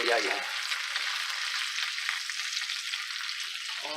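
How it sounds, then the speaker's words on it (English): Bacon frying in a pan crackles and sizzles close up in a dense, continuous hiss for a few seconds, with no voices. "Need to flip the bacon over a bit."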